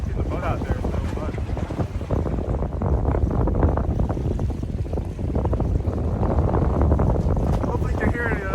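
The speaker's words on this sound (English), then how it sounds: "The splash of the waves, the wind's picking up, the snow's picking up." Winter wind and waves at Falmouth Harbor, Massachusetts, during a snowy striper-fishing outing, with loud, constant wind buffeting the microphone over the steady wash and splash of water, heard close.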